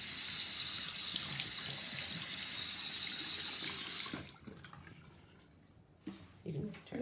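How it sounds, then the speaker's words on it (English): Water runs steadily from a tap while hands are rinsed, a bright continuous splash that cuts off abruptly partway through, followed by quieter drips and small handling noises. "You can rinse the bubbles off."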